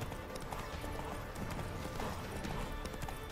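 Horse hooves pound in quick repeated clip-clop beats during a gallop in The Witcher 3, dense and continuous under a noisy game soundscape, fairly quiet overall.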